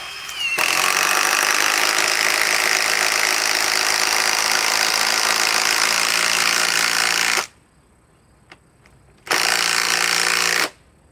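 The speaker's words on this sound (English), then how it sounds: "Finally starting to warm up here, this impact wrench." An impact wrench hammers loudly and continuously for several seconds, cuts off into a short pause, then fires again in a second shorter burst.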